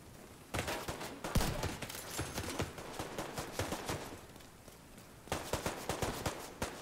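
Turret and weapon fire from the video game The Division crackles in rapid, dense bursts, fairly close and loud throughout, with a sharp heavy shot early on and a renewed volley near the end.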